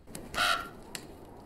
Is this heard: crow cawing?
yes